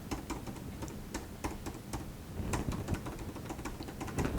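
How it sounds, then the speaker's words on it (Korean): Fast, light typing on the thin keyboard of a 2018 15-inch Apple MacBook Pro: a steady patter of soft, crisp key clicks heard close, with no talking. "실제 타건 한번 보여드릴게요."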